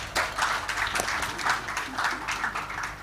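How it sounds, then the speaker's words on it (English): Delegates at an African climate dialogue conference applaud, a steady patter of many hands clapping in a pulsing rhythm, moderately loud and close throughout. "Give a huge round of applause for yourselves."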